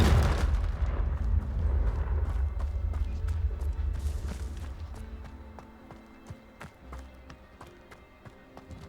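A Confringo blasting spell in the Hogwarts Legacy video game erupts in a loud, deep explosive boom that rumbles for a few seconds and then fades, followed by scattered lighter taps and impacts with no talking.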